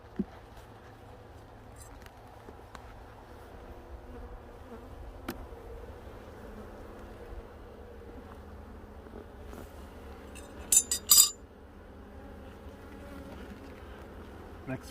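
Honeybees buzz softly and continuously around an open hive during a prewinter frame inspection, a faint steady drone punctuated by a few brief clicks and knocks near the end.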